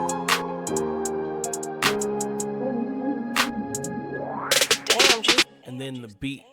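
An emotional piano beat intro, built in FL Studio, plays with the 808, guitar and some percussion removed: sustained piano chords punctuated by sharp hits, ending in a rising sweep and choppy stutter effects.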